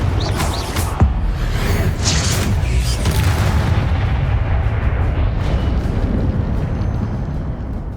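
A Confringo fire spell explodes in the video game Hogwarts Legacy, a loud booming blast that rumbles on with dense, sustained low roar and crackle, then trails into a steady heavy din with no talking.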